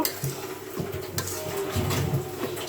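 Taro being stirred in a cooking pot with cumin and garlic, a spoon scraping and clinking against the metal in steady irregular strokes, close and fairly loud with a light background hum.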